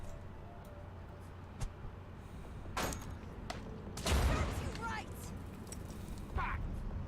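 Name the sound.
grenade explosions in Mutant Year Zero video game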